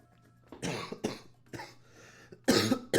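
Several sharp, harsh coughs from a person nearby come in bursts separated by short pauses, the loudest pair arriving at the end.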